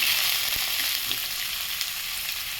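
Chopped onions, green chillies and seeds fry in hot oil in a pan for a bun dosa, making a steady, bright sizzle with a faint stir or two, close and uninterrupted by talk.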